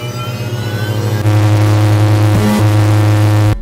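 The XF-84H Thunderscreech aircraft engine runs with a loud, steady droning tone and harmonic whine, stepping up in intensity partway through before cutting off abruptly.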